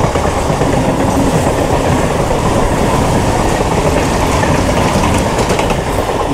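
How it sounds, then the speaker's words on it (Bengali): Dense, continuous rumble and clatter of a moving train on an Indian rail line in the afternoon as a local train passes, loud and steady throughout with no voices. "ওই দিক থেকে আবার একটা ট্রেন আসছে।"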